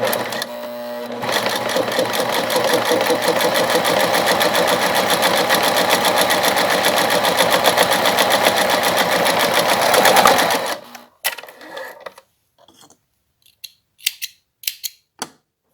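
A sewing machine stitches fabric for a double pencil case, a loud close steady whirr running for about ten seconds, then it stops, followed by a few short clicks and snips.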